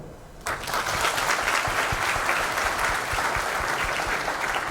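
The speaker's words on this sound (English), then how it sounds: "So first and foremost, you have a wonderful mentor with you. So you must clap for him." An audience claps for a mentor at an orientation session, steady broadband applause starting abruptly after a brief quiet moment and holding loud and dense for several seconds with no speech over it.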